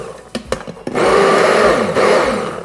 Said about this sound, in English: Using an immersion blender, we're just going to blitz the sauce so it's nice and smooth